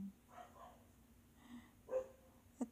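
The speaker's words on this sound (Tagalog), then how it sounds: "Ang aking makulit na aso." A small dog gives a few faint, scattered barks and yips at a distance, set against a quiet outdoor background in a home garden.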